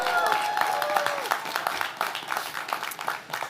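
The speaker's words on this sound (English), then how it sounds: "How about a big round of applause for our governor?" Crowd applause for New York Governor Kathy Hochul at the Schenectady holiday parade, a dense outdoor patter of clapping that holds steady and thins slightly toward the end, with some talk and cheering mixed in.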